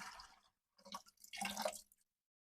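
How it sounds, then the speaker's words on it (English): Water from the lines of a 20-micron sediment filter system drains out after pressure is released, giving short bursts of splashing and trickling with brief pauses, close and fairly quiet. "Just let that drain out a little bit."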